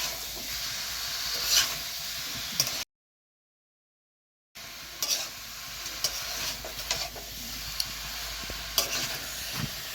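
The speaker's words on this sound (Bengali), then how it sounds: "ভালো করে নাড়িয়ে চেড়ে মশলাটাকে মিশিয়ে দিতে হবে, না হলে নিচে ধরে যাবে।" Masala being stirred in a sizzling pan for a dahi jackfruit curry, with scraping strokes and clicks of the spoon over a steady hiss, broken by a brief silent gap.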